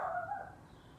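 A neighbour's dog giving a single short bark, faint and distant, with no voices in the clip.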